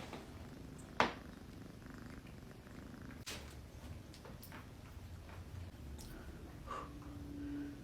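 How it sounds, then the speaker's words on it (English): A cat purrs softly and steadily up close, a low continuous rumble with faint breathing and a few small clicks. "Listen to her purr."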